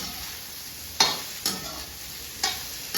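Onions and green chillies fry in a pan under a faint steady sizzle, broken by several sharp scraping strokes of a spoon stirring close by, no one speaking.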